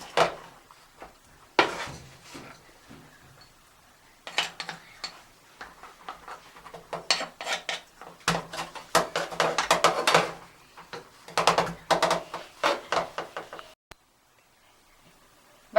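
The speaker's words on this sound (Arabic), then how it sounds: "هنبتدي بقى نغرف الرز بتاعنا كده بالشكل ده كده" Rice being scooped onto a serving dish, bursts of scraping and clinking from a spoon against the pot and plate, separated by short quiet pauses.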